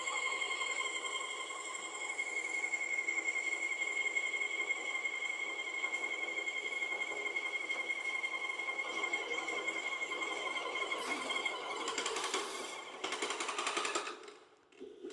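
A Chinese airless paint sprayer machine builds pressure while priming, giving a steady, droning motor hum that runs without a break, then turns rougher and noisier near the end before it briefly drops away.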